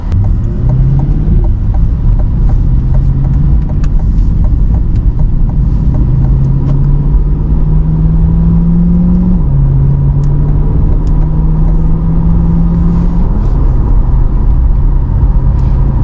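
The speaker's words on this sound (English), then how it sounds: "if you push both paddles in, now you're in like a neutral mode. It allows you to like rev the car" A 2020 Corvette C8 Z51 V8 engine revs in neutral mode, a loud continuous rumble with the pitch rising and falling across several held revs, alone without talk.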